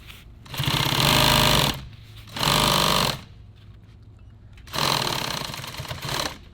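A sewing machine hems nylon tactical gear in three loud, close bursts of rapid stitching, separated by quiet pauses, with no one speaking.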